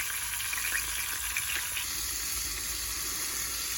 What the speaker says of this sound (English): Just like that, it's sizzling.